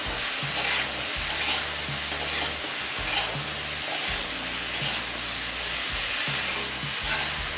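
Mixed vegetables with potato, turmeric and salt frying in a pan over a medium flame, a steady close sizzle with rhythmic scraping and stirring strokes throughout.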